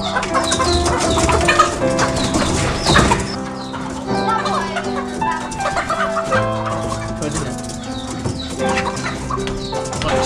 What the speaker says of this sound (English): So these chickens are very hyperactive